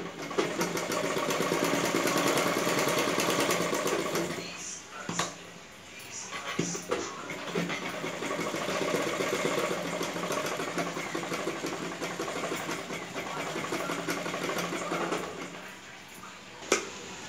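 A sewing machine stitches lining to the back neck of a blouse, a steady mid-pitched mechanical whir running continuously, briefly pausing around the middle and near the end, close and fairly loud.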